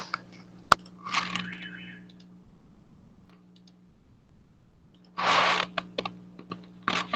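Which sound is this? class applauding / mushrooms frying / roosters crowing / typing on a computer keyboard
typing on a computer keyboard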